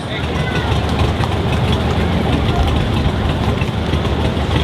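A Pulling for the Cure tractor rolls by in a summer parade of power, its heavy engine rumbling low and steady under a talking voice.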